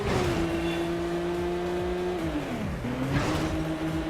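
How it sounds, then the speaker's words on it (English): A loud race car engine in the video game Midnight Club 2 screams continuously, its pitch climbing then dropping sharply at a gear change before rising again. "but I just think this engine note's amazing."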